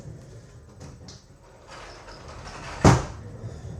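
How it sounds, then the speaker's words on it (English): A door swings shut with one loud, close thud near the end, after a few seconds of quiet room noise. "Close this door."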